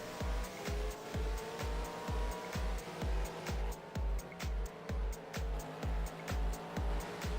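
Race car engine in a racing video game lapping Willow Springs International Raceway, a steady rhythmic pulse of revving surges repeating about every half second, alone with no talk.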